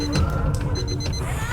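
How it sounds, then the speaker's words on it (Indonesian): Time bomb clock alarm ringing: a repeated high electronic beeping in short bursts, steady and fairly loud, over background noise and faint talk. "Kalau kabel merah ini menghentikan alarm di jam ini, berarti kabel merah ini yang benar."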